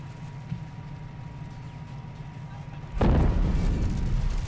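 A mortar in the World War II strategy game Men of War Assault Squad fires one heavy, booming shot with a rumbling tail, preceded by a low steady game background and a quieter thud.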